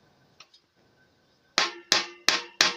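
Four sharp, close hammer knocks drive a plastic fitting onto PVC pipe at a steady pace, after a quiet stretch with a couple of faint taps.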